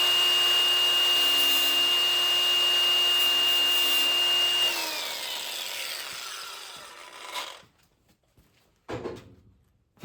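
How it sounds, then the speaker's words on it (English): A power sander works a steel part for a 1/10 scale gooseneck trailer with a steady high whine and grinding rasp, then winds down and stops, followed by a couple of brief clunks. "So I gotta sand."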